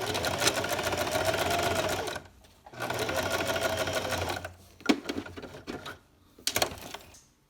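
A sewing machine stitches zigzag across the seam of a baby sleeper in quick steady rattling bursts, stopping briefly between runs, close and clear with no talk.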